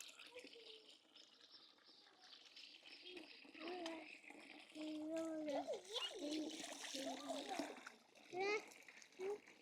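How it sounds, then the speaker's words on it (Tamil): Water from a mountain spring on a Swiss farm, a steady splashing trickle running throughout the clip while voices, including a child's, talk over it. "மலை ஊற்றிலிருந்து நேரடியாக வர தண்ணி"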